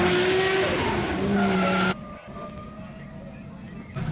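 A white Nissan S15 drift car with a supercharged LS engine skids at an event while warming up its tyres, a loud revving engine and tyre squeal that cut off abruptly into quieter crowd and track ambience.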